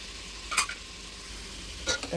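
Beetroot palya fries in a pan, with a faint low sizzle and two brief scraping stirs of a spatula against the pan.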